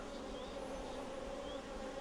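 Honey bees in an open hive, a soft continuous droning hum at close range, steady and even, with occasional higher whines of single bees passing.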